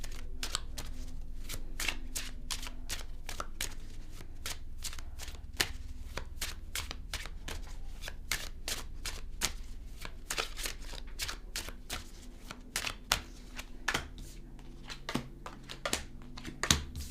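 Tarot cards shuffled steadily for a long stretch, a dense run of crisp riffling snaps and soft slides close to the listener, with no talking.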